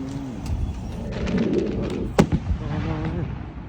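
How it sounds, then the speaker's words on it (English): Fireworks popping outside during a traffic stop, heard as a sharp cluster of bangs around the middle of the clip over steady background rumble and chatter-like noise. "They popping fireworks."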